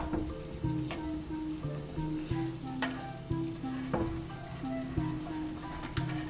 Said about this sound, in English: now we can go ahead and just put all of this beautiful vegetation into our pot